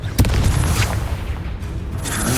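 A Confringo blasting spell goes off in the video game Hogwarts Legacy with a sharp boom right at the start, then a rumbling roar that trails off and swells again near the end.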